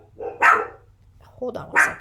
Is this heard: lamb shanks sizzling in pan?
no